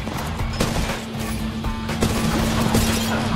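R-301 rifle fire in Apex Legends Mobile sounds as a continuous stream of rapid shots with scattered sharper cracks, steady and moderately loud against a constant game hum.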